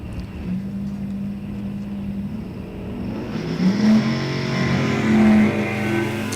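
Drag race cars launch down the strip at a Sunoco Race Fuels ET Series bracket race, their engines a steady loud roar that climbs in pitch as they accelerate away, with no talking.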